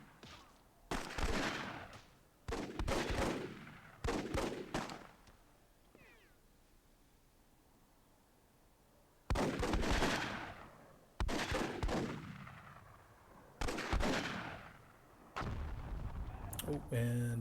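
Explosions and gunfire from the strategy game Myth II Soulblighter come in loud, separate bursts, several blasts spaced a few seconds apart with a quiet gap in the middle.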